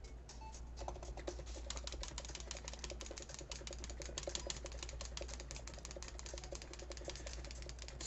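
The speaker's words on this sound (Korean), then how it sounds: "마우스와 키보드 소리를 동시에 내보도록 할게요." A computer keyboard and mouse click in a dense, continuous patter, picked up by the mic of an ABKO MR500 wireless gaming headset, with faint music from a tablet about a metre away and a steady low hum underneath.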